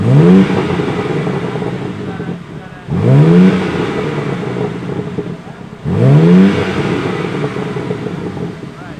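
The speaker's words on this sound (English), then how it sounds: "So basically doing a couple revs with his setup right now." A yellow 2022 BMW G80 M3 engine is revved three times in Sport Plus mode, each a loud rising blip at a regular interval followed by a settling idle.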